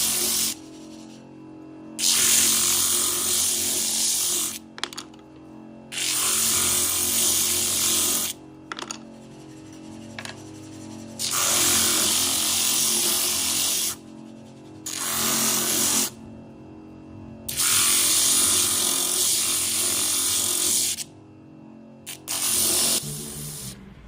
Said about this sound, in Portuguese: agora é só polir.